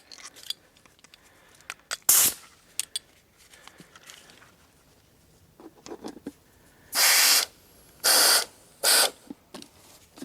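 Compressed air is pumped into a Kubota G5200 tractor tire in three loud, steady bursts of hissing, each about a second long, after scattered clicks and handling knocks.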